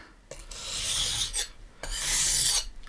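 A Miyabi Japanese knife drawn across a whetstone in two long, close, raspy strokes, each a steady gritty scrape with a brief pause between, no voices.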